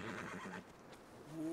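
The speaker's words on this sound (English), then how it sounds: "There's a horse!" A horse whinnies in Red Dead Redemption 2, a brief, faint neigh that rises out of quiet background noise near the end.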